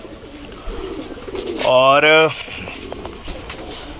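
Pigeons kept on a rooftop terrace, with soft coos in the background and one louder, near, drawn-out call in the middle, while someone talks.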